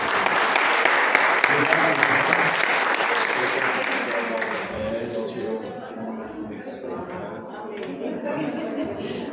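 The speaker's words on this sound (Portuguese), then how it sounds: "Eu vou dar uma salva de palmas a todos vocês" Enthusiastic applause from a crowd, a dense, continuous clatter of clapping that thins slightly toward the end, with a few voices and faint chatter mixed in.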